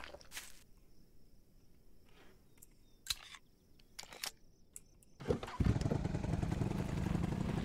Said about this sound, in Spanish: ¡Sube moto!